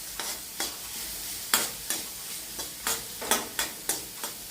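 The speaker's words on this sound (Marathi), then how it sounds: "जरासा मी ढवळतोय।" Onion and peas, salted, stirred while frying in a pan for a spinach-pea sabji: about ten sharp, evenly spaced scraping strokes of a spoon against the pan, close and clear over a soft background sizzle.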